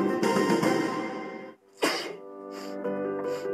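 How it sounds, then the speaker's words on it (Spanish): A sustained tone gives way to a sharp sneeze, followed by a couple of short coughs, close and fairly loud. "Al estornudar y toser,"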